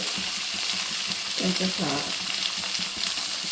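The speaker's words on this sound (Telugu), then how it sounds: "పచ్చివాసన పోయేంత వరకు ఇలా ఫ్రై చేసుకోవాలి" Raw prawns frying with tamarind leaves in a pan for an egg curry, a constant near sizzle with faint stirring scrapes and a brief low voice partway through.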